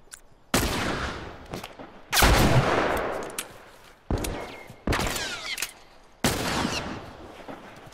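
Heavy gunfire from a weapon in The Last of Us Remastered, several sharp, loud bursts of shots with short gaps between them, each trailing off in a decaying echo.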